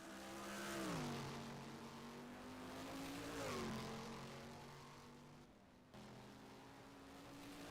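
A 1971 CanAm race car's engine, refired after a spin at Road Atlanta, accelerates hard in a steady rising drone, pitch climbing through gear shifts with a brief drop before pulling again, loud and close.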